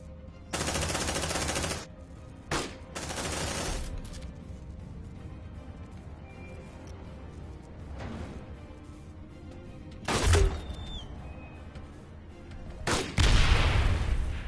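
Marines lay down sustained suppressive automatic gunfire in the sci-fi game Aliens: Dark Descent, loud bursts of rapid fire recurring across the clip with quieter gaps and distant crackle between.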